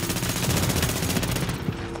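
Sustained gunfire from a firefight in Tom Clancy's The Division, dense rapid shots rolling on continuously and loudly for the whole stretch, with no one speaking over it.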